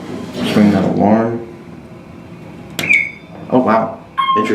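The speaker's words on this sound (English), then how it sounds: "Ring that alarm." An Otis hydraulic elevator's alarm bell in a hotel rings in short, bright tonal bursts, with a person talking beforehand.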